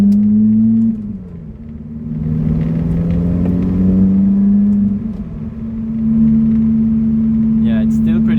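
A loud Lotus Elise drives through tunnels, its engine droning in a low steady hum that dips when the driver lifts off and swells as the car accelerates again, with the sound reverberating close up and someone speaking over it.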